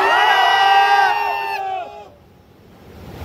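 A large crowd at a Bhojpuri film event shouts and cheers loudly in a sustained, high-pitched roar that fades after about two seconds, leaving a low murmur that starts to swell again.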